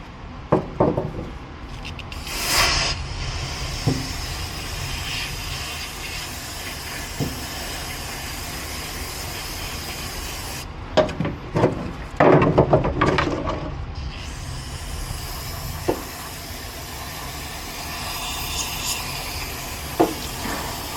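A parts washer sprays motorcycle airbox screws clean in a race-prep workshop, giving steady hiss with louder spray bursts and clatter of small parts, no talking.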